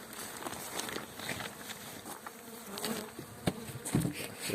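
Honey bees buzzing around an apiary hive during spring treatment against mites, a dense close hum of many insects with some faint footsteps and handling noises, fairly quiet overall.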